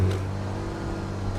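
A stock semi-truck engine idles and drones in a trucking simulator game, a steady low rumble with a faint whine, continuous and fairly loud with no talk over it.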